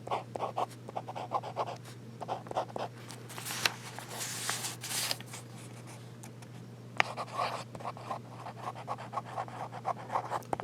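Fountain pen nib writing on paper, with the scratching carried through to the back of the sheet: close, steady bursts of light scratchy strokes with short pauses between them over a constant low hum.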